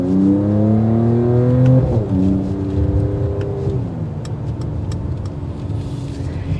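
A 2022 Mercedes AMG GT43 making a low-speed turn radius maneuver, its engine droning steadily close up with pitch shifts as it moves, alone without talk.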